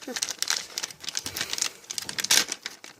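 Crinkly plastic packaging of a pop-it toy is cut and pulled open up close, giving irregular sharp rustles and crackles in quick uneven bursts.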